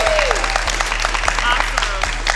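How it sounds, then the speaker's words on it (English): Audience clapping at a morning financial literacy event, moderate and somewhat sparse, with a low steady hum underneath and faint voices mixed in. "can we all give a big round of applause for you for showing up?"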